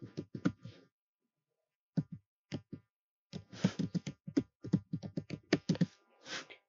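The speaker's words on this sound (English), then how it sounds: "I'm gonna type in a reason for my account." Quick, light clicks of fingers typing on a computer keyboard, a short burst of keystrokes, a brief pause, then a longer run of close, crisp tapping.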